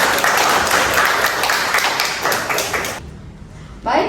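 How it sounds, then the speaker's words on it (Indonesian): Audience applause at a nutrition lecture, a dense steady patter of clapping that carries on loudly for about three seconds before dying away, after which another sound briefly rises near the end. "Aplaus untuk semuanya."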